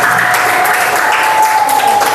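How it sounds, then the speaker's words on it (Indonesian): A classroom group claps in applause for a student presentation group at an Islamic junior high school, steady dense clapping lasting the whole stretch with no talk over it. "Kasih tepuk tangan untuk kelompok 3."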